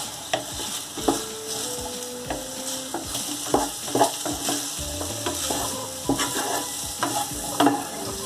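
Brinjal and potato curry cooks over a low flame while a spoon scrapes and taps the pan in irregular strokes over a light sizzle. The stirring is close and clear, with no talk.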